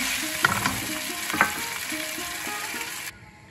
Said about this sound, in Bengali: ভিন্ডিটা ভেজে নিই, ভালো করে ভাজবো।